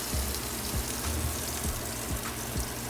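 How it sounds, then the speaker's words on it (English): Oil sizzling in a frying pan while cooking enchiladas at home, a steady loud crackling hiss filling the whole stretch with faint low bumps from handling, no talking. "The pan should be, like, sizzling with oil."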